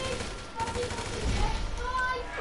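Rapid bursts of micro SMG fire in GTA V, quiet and slightly distant, rattling out in quick strings over low background game noise.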